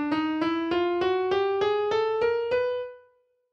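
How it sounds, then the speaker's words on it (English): A steady run of single pitched notes rising one semitone at a time, about nine evenly spaced tones over nearly three seconds, each ringing cleanly before the last fades out, with no voice over them. "When you include all the notes like this, it's called the chromatic scale, and it would sound like this."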